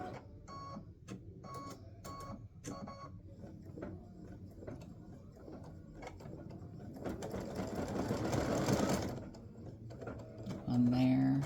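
An embroidery sewing machine works through a gnome appliqué design in bursts of rapid stitching with brief pauses between, rising to a denser whir near the end, close by.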